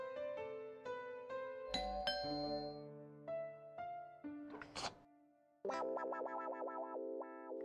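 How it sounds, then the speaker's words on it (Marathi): A household doorbell gives a soft ding-dong chime at a door in a home, mixed with faint musical tones and effects. "बेल वाजते. जा जा जा, दरवाजा उघड."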